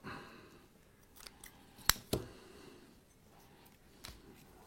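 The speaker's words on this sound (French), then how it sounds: "On fait un nœud, voilà, on va couper à peu près par là." Scissors make a crisp double snip through a knotted thread on a diorama workbench, a sharp close click followed by a second shorter cut, alone against a faint room hiss.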